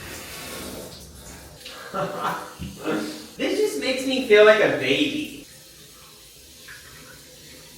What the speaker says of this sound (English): I'm gonna take a shower in a bathtub.